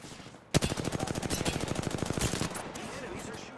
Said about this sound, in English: The enemies are shooting at me. I am taking fire.